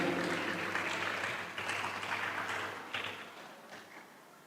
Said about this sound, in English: give applause for Miss Siti Marina Wastuti